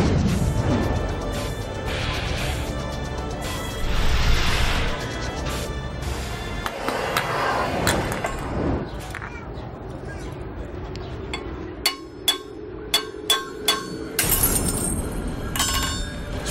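Real glass shattering during a street magic performance, a crash among busy crowd noise and talking, followed by a series of sharp clinks and tinkling pieces near the end.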